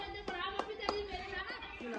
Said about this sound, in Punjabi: ਤਾੜੀ ਮਾਰੀ ਦਿਓ ਤਾੜੀ ਮਾਰੀ